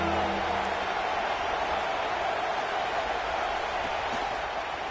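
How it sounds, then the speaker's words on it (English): A football stadium crowd of Buckeye fans roars on third down, a dense and steady wash of distant cheering and noise that carries on without a break. "The Buckeye crowd alive on 3rd down."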